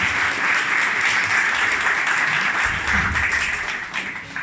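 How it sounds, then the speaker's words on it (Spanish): Audience in a talk venue breaks into sustained, dense applause, steady and fairly loud throughout, with no voices over it. "Un aplauso para Alejandro."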